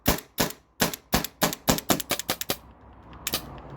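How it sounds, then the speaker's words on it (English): A modded Byrna TCR air launcher, empty with no magazine attached, dry-fires about ten sharp snapping shots in quick succession, then one more after a short pause as the remaining pressure bleeds off. "I'm just going to shoot it to dry fire"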